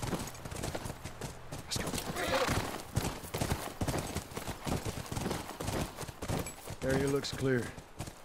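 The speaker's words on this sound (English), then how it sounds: "That's our horse." Horse hooves clip-clop steadily in The Last of Us video game, a rhythmic walking beat under spoken dialogue, with a short whinny near the end.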